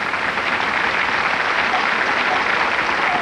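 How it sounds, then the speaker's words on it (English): Studio audience applause from a home-improvement television show, a dense, steady roar of many hands clapping at even loudness throughout, with no voices over it. "Okay, applause, bringing applause."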